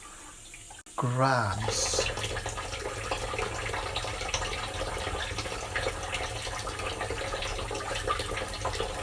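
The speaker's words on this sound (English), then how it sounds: "And add the water," Water runs steadily into a bowl of flour for scone dough in a home kitchen, a close continuous pouring rush following a brief spoken word.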